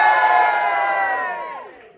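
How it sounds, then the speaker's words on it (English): A crowd of roller coaster fans at a fan event lets out a loud sustained cheer and whoop that trails off over a couple of seconds. "Give me a cheer if you're looking forward to a good weekend"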